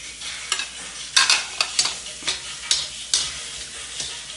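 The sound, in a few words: ginger and onion sautéing in a pan for tinola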